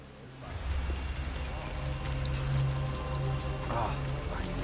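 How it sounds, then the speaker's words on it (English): Steady rain patters and hisses across surfaces in a Hitman 3 game scene, a continuous dense wash with a faint voice murmuring underneath. "Rain, nothing but rain."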